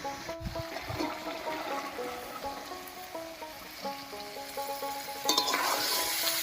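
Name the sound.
stirring boiled potatoes and chickpeas into tomato masala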